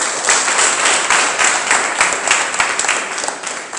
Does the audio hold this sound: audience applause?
yes